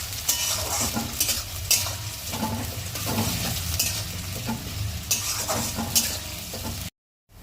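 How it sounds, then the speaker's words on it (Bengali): Onions fry lightly in a pan for Bengali chicken maharani, a steady close sizzle broken by repeated scraping stirs against the pan, then cutting off abruptly into silence. "এই পেঁয়াজটাকে আমি হালকা করে ভেজে নেব"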